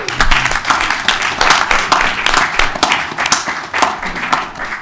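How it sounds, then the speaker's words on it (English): Applause from people at a board of education meeting, a dense, steady round of clapping lasting several seconds with no talk over it. "Can I just have a round of applause for Diane's hard work?"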